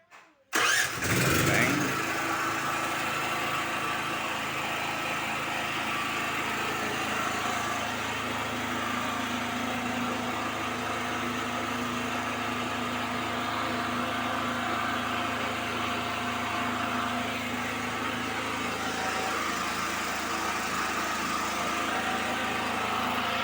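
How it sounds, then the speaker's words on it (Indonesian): Diesel generator set fires up after a brief crank, then settles into a steady loud idle for warm-up while the load stays on mains power. "Oke, genset on."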